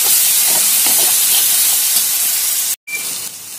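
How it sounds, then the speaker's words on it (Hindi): Turmeric, Kashmiri red chilli and coriander powder masala sizzling in a pan for aloo beans sabji, a steady loud hiss that cuts out briefly near the end and resumes, with no talking. "ये देखिए, मसाला हमारा भून चुका है"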